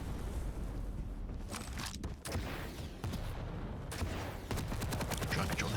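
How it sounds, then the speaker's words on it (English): Machine gun fire in a Quake Champions one-on-one match, a dense continuous rattle of rapid shots with short bursts and brief gaps, layered with other game effects throughout. "All he has is a machine gun."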